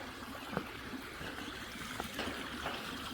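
River water flowing past a bank on a New Zealand road trip from Te Anau to Christchurch, a steady close burble and trickle with small splashes throughout.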